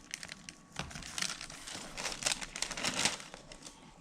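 A small tool pries a Mod Podged puzzle away from its paper backing, giving close, crackling crinkles and soft tearing rustles that swell and fade over several seconds, no voices.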